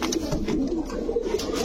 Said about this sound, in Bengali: দর্শক এই যে দেখেন কবুতর গুলা।